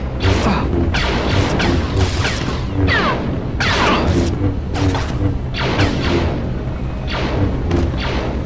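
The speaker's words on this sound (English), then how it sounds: "I'm not going anywhere with those cannons firing at me." Loud, continuous booming and heavy thuds from repeated cannon fire in Star Wars Episode III: Revenge of the Sith on PS2, with whooshes and crashes layered over a dense, chaotic battle soundscape.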